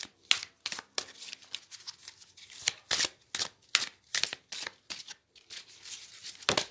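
Tarot cards are shuffled by hand close up, a series of crisp riffling and slapping bursts in an uneven rhythm, with no voice over them.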